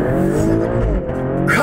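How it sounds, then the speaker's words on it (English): A 2023 Maserati Grecale Trofeo SUV with a 3-liter twin-turbo V6 launches hard on launch control, its loud, close engine roar rising in pitch with a harsh buzzy edge and a hint of tire noise at the end. "Maserati Grecale Trofeo with launch control."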